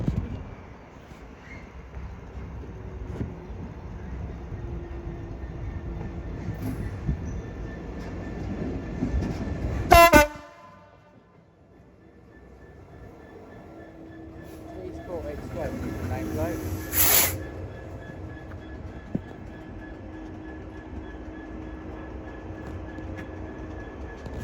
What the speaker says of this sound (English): making our way out the sidings is the return of 66109, making a return service back to Peter Bruff LIP